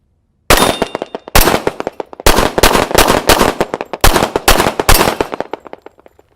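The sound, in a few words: 1911 pistol shots hitting steel targets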